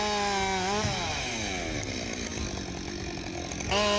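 A Husqvarna 572 XP chainsaw, rated at 5.8 horsepower, cuts into a giant oak tree. The loud, close engine whine sags in pitch as the chain bites, holds under load, then surges back to a high rev at the end.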